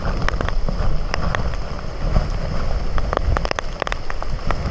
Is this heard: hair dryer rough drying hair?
no